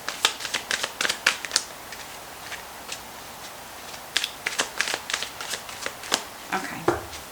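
Tarot cards being shuffled and drawn, a rapid series of crisp riffles and flicks close up, with short pauses between bursts and no talking.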